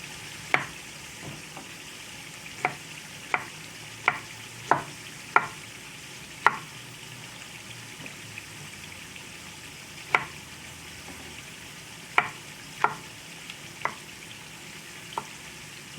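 Okra frying in a pan gives a steady low sizzle, with a dozen or so sharp clicks and scrapes of stirring scattered irregularly over sixteen seconds and no talk.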